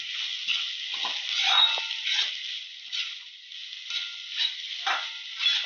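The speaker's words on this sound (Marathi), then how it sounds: "व्यवस्थितपणे परतून घ्यावी" Bitter gourd (karela) pieces stir-fried in a pan, giving a steady close sizzle with irregular scraping strokes of a spatula stirring through the vegetables, no voices.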